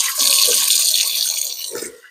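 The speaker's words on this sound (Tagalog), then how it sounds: "Saka mo ngayon ilalagay ang suka natin." Vinegar poured into a boiling pot while cooking a Bisaya humba dish, a close, loud splashing pour lasting about two seconds and tapering off at the end.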